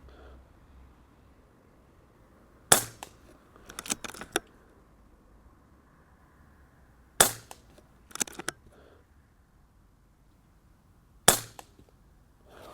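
An Airmaks Katran CB PCP air rifle fires three sharp, loud shots several seconds apart, each followed by a cluster of softer metallic clicks and handling noises, with no speech.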